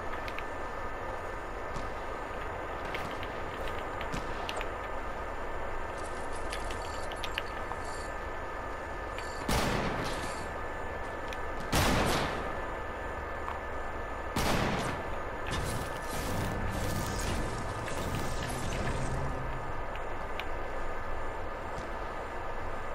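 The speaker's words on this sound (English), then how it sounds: "We're getting sniped at" Sniper fire in the video game Fortnite, with a few loud, sharp shots standing out over a constant dense background of game noise and rumble.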